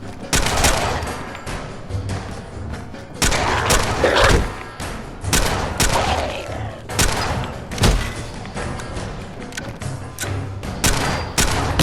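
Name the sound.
powerful handgun firing in Fallout 4 video game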